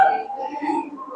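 A voice imitates an orangutan call during a guessing game, a single sustained, wavering vocal hoot lasting about a second, close and clear with no other talk.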